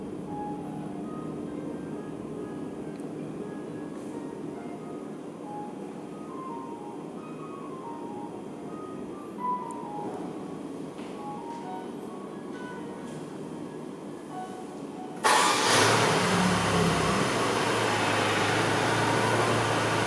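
A Mercedes-Benz engine starts by remote start. Soft tonal chimes and a low hum play first, then the engine catches with a sudden loud roar and settles into a steady, close idle.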